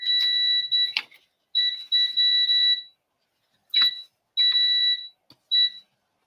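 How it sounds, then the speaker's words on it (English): Electronic timer alarm going off in a quiet room, a loud, piercing two-tone beeping in several bursts of uneven length separated by short silences. "That was your timer or something?"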